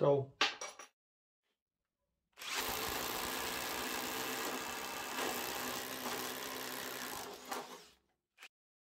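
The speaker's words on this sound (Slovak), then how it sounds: "Ďalej budeme pokračovať vrtaním otvoru do mäkkého smrekového dreva o priemere 28 mm." A Parkside Performance PDSSAP 20 Li compact cordless impact driver bores a 28 mm hole in soft spruce wood, a loud continuous whirring and grinding for about five seconds after a few short handling noises.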